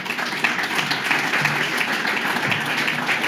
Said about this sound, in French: Vous pouvez d'ailleurs vous applaudir.